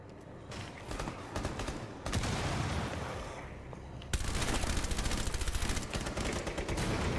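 Rapid automatic gunfire in Rainbow Six Siege, dense bursts of close shots that grow louder and more sustained partway through, crackling steadily without pause.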